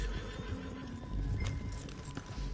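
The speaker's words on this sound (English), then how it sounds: "Get back on your horse, John." In a video game, a horse snorts and whinnies over thudding hooves and a low rumbling background, fairly close and continuous.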